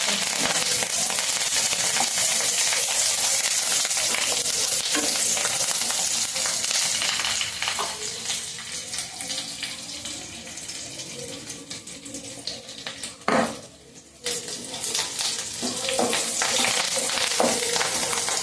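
Fish fry loudly in a pan with chili powder and curry leaves, giving a steady close sizzle with stirring scrapes and a few sharp clatters, and no talk.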